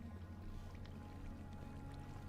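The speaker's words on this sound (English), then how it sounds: "I hear water running like it is flooded" Water runs and gurgles steadily inside a flooded Minecraft underwater base with Minecolonies mod styles, a low continuous rushing wash heard close and unbroken.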